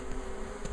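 Honey bees on a January cleansing flight buzz around the hive, a soft continuous drone with a few nearer passes swelling briefly.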